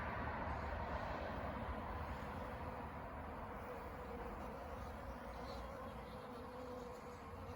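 Honey bees drink at a water source, their continuous buzzing dense and close with no talking.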